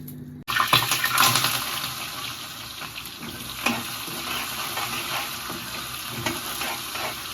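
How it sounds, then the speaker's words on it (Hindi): Tadka of tempering spices in hot oil added to cut vegetables erupts into a loud sizzle, then settles into a steady crackling hiss with small spitting pops, close by, with no talking. "यहाँ पे मैंने तड़का लगा दिया है सब्जी में"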